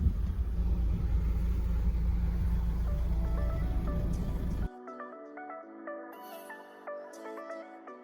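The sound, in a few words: car driving on the road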